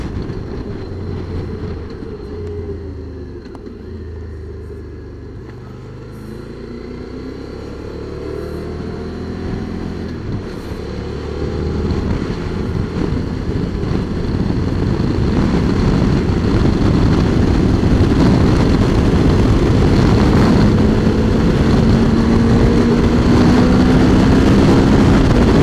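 A QJ Motors SVT 650X motorcycle is ridden with a steady engine drone and heavy wind rush. The noise grows louder and denser after about twelve seconds as speed builds, and no one speaks.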